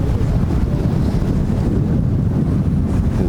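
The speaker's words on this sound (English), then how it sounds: "The ocean should be right underneath of us because I can hear the waves." Pacific Ocean waves washing beneath Santa Monica Pier, a steady loud low rumble of surf mixed with heavy wind buffeting the microphone, no voices.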